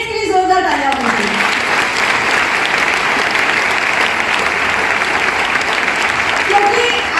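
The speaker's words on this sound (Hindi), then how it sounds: "उसके पहले मैं चाहूंगी एक बार मेरे पेरेंट्स के लिए जोरदार तालियां होंगी." An audience at a success seminar bursts into loud, sustained applause, dense clapping filling the whole stretch, with a voice speaking briefly at the start.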